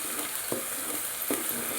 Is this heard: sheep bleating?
no